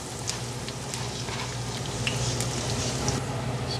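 Olive oil sizzling and frying in a pan in a home kitchen, a steady close crackle with scattered sharp pops, no talking.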